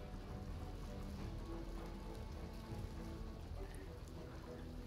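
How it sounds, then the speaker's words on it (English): Steady rain-like hiss and patter from a rain spell cast in Divinity: Original Sin 2, continuous and even throughout with no talking. "I've got a rain spell I could use, and if I've got enough, I can cast it."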